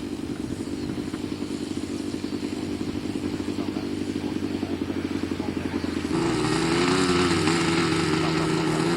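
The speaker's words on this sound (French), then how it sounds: "Le moteur ratatouille." A model aircraft engine at a 1989 European F3Q competition, sputtering and rattling at idle as a loud, continuous buzz that turns harsher and rougher toward the end.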